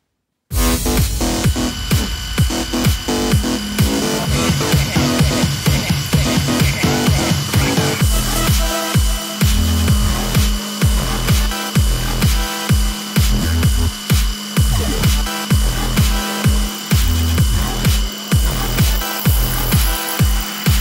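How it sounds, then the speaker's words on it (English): A power tool cuts a small groove into wood for a nut on a recoil pad jig, a loud continuous grinding whir that breaks into rhythmic repeated cutting passes, close up with no talking. "So I'm gonna cut this little slot right here, a little groove right here for the nut to fit into"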